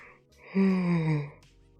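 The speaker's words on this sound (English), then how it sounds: "Sorry, I had to yawn." A single drawn-out yawn, opening with a breathy intake and sliding downward into a low, voiced groan before trailing off.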